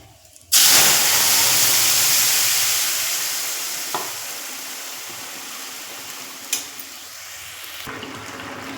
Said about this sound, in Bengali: এবার আমি ছোলাগুলো ঢেলে দিচ্ছি।